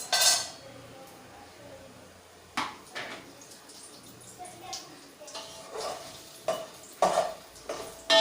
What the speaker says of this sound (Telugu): సో ఈ ఐటమ్స్ అన్నీ నేను దీంట్లో ఫ్రై చేసుకుంటున్నాను.